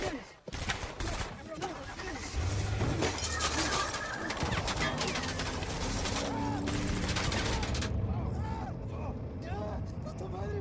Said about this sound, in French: On m'a tiré dessus.